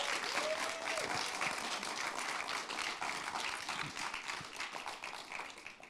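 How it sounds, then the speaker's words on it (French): Audience at a high-school public-speaking contest applauds as a speaker is invited on stage, a steady dense round of clapping filling the room for several seconds, with a few voices faintly beneath it. "Mesdames et messieurs, on peut l'applaudir."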